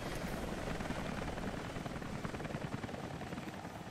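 A helicopter in the video game Rise of the Tomb Raider thrums with steady rapid rotor chopping and engine whine, continuous and moderately faint, with no talking over it.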